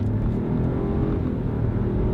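A 1.3-liter turbocharged three-cylinder engine in an SUV accelerating from a stop, a steady dense drone of engine and road noise heard from inside the cabin with no talk.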